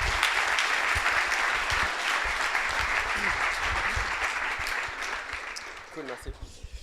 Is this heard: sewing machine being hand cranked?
no